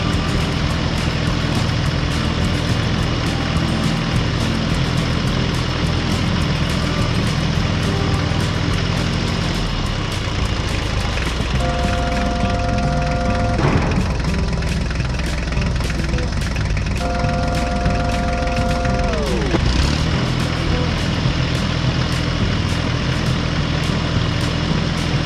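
A heavy diesel tractor engine rumbles steadily and loudly up close while driving over a newly paved road, with a couple of brief revving whines partway through and no voices.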